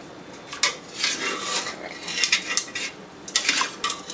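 Drained black beans tip into a bowl with a run of close clinks, scrapes and soft wet shuffling from a spoon against the dish, uneven and busy throughout.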